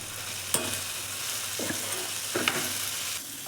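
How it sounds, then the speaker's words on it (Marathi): Turmeric, red chilli powder and masala stirred in a pan, a soft continuous sizzle with a few scattered scrapes and taps of a spoon, nearby and fairly quiet, no one speaking. "आणि व्यवस्थित मिक्स करून घेऊ."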